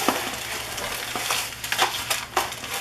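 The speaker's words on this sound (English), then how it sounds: "I'm just going to mix this up." Oatmeal and molasses batter being mixed by hand in a baking pan: a steady sticky scraping and stirring, with soft rhythmic strokes repeating at close range and no talk.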